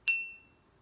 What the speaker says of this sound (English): The mindfulness bell where it just goes.